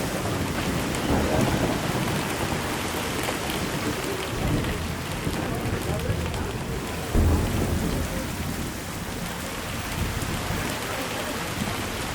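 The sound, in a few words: heavy rain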